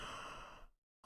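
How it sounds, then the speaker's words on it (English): A single human yawn, drawn out as a long breathy exhale for most of a second, then a sudden drop to silence with a brief sound returning at the end; no speech. "I auto-induced myself to yawn."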